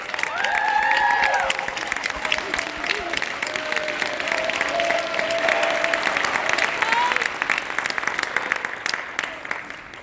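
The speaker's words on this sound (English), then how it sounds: "So again, give a round of applause to these young athletes." Steady applause fills a hall for young athletes at a school signing award ceremony, with light cheering from the crowd and faint voices mixed in, sustained evenly throughout.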